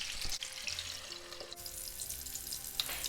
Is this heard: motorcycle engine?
no